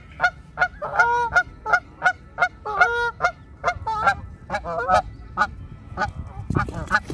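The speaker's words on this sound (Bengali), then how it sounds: "আর লেক থাকলেই সেখানে অবশ্যই হাঁস থাকবে" Ducks at a park lake in France give loud, repeated honking calls in quick bursts, close by, with short gaps between calls and quieter honks trailing off near the end.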